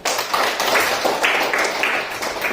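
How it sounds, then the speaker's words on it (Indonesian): Classroom of students clapping for a classmate, a brief burst of quick, uneven claps close by, filling the room steadily for a couple of seconds. "Tepuk tangan untuk Ayu."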